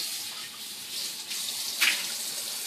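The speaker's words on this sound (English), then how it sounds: "dump them in the sink, wash your dish" Tap water runs steadily into a kitchen sink as a casserole dish is washed, a constant close splashing hiss that swells with a brief louder splash near the end, with no voices.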